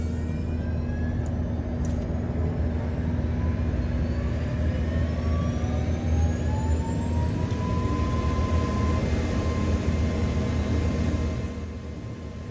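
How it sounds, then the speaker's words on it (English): An MH60 helicopter's onboard APU spools up inside a flight simulator game, a steady whine that climbs gradually in pitch over a constant low hum, with no talk. "We'll turn on our onboard APU."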